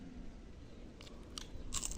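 Close, crisp crunching bites of someone chewing a brittle, dry dried-fish head, a few sharp crackles over soft mastication sounds.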